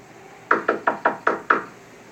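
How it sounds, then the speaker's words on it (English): Six evenly spaced knocks rap on a bedroom window, loud and close, each sharp hollow thud fading quickly before the next in a steady rhythm. "the knock at the bedroom window"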